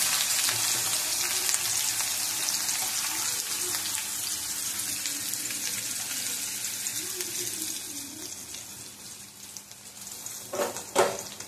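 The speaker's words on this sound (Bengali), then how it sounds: "পেঁয়াজ কুচিটা ভাজা ভাজা করে নেবো।" Steady broadband sizzle of chopped onion frying in oil with cumin, continuous and fairly close, with a brief clatter near the end.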